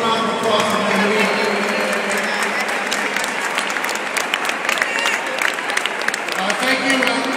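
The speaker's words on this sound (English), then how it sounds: "Please round of applause for Mayor Menino." An audience applauds the mayor at a public event in Massachusetts, steady dense clapping from a crowd that continues throughout, with some voices and cheers mixed in.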